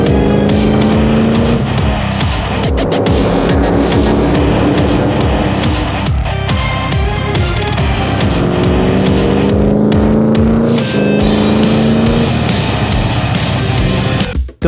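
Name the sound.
cars driving in car-to-car action shot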